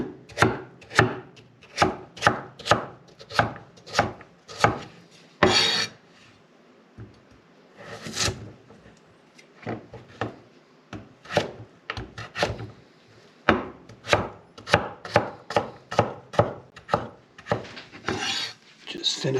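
Knife chopping carrots on a cutting board, a close, crisp series of rhythmic cuts in bursts separated by brief pauses, with soft board scraping between runs.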